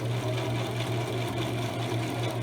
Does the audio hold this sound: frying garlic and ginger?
no